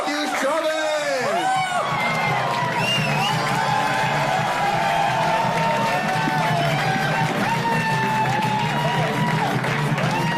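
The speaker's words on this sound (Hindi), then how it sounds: "तो अगर आप लोग जोरदार तालियां बजाओ तो उनको बुलाना चाहते हैं" A studio audience cheers, whoops and claps loudly to welcome guests onto the stage of a Hindi comedy show, with sustained crowd noise and rising tonal sounds layered throughout.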